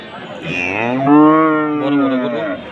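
A large cow at a winter cattle market gives one long, loud, close moo lasting about two seconds, with no talking over it.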